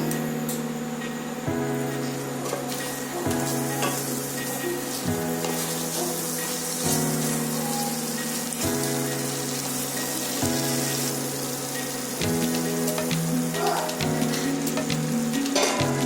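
Split green chillies frying in a pan with poppy seed paste, sizzling steadily beneath a loud, rhythmic music track that runs throughout.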